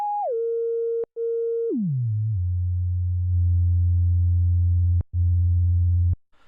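A Behringer CAT analog synthesizer sends a pure filter tone that steps down and glides lower in pitch, broken by a few sharp clicks, then holds a steady deep drone until it cuts off abruptly.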